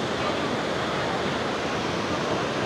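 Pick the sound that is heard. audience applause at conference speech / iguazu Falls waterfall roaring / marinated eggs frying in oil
iguazu Falls waterfall roaring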